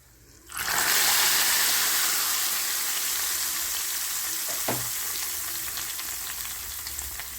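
Loud, steady sizzle of a tempering hitting hot oil for kanda bachali curry (yam and Malabar spinach), bursting in suddenly after a quiet moment and crackling on without pause.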